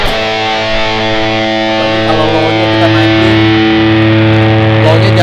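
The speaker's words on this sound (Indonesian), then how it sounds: "Dia distorsi tapi tetap sentuhan metal-metalnya itu sih." Fender Telecaster electric guitar played through a Boss Metal Zone MT-2 pedal, giving a loud, thick, heavily distorted sustained tone that rings steadily with dense harmonics throughout.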